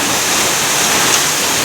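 Heavy monsoon rain pours down in Vasai amid waist-deep floodwater, a loud, dense and unbroken hiss with no voices.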